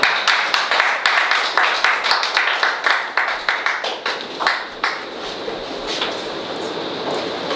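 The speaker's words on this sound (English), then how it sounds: "Ladies and gentlemen, please give a warm applause for BCD President Carrie-Ann Eiffel." Audience applause at a media launch event in Barbados, a dense run of handclaps that starts strong and then thins out toward the end.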